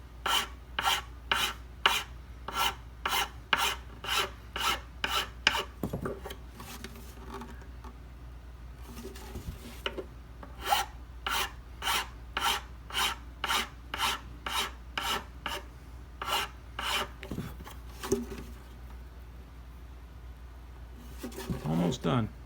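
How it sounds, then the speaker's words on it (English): A lighter cutting file rasps across a violin nut in rapid, evenly spaced strokes, close and crisp, pausing briefly midway before resuming the rhythmic back-and-forth, with quiet speech in places. "I'm going to further reduce it with a lighter cutting file."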